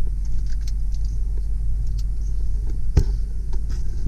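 A 1989 Ford F-250 XLT with the 5.0L engine, idling as a low, steady rumble heard from inside the truck, with faint clicks and a brief knock partway through.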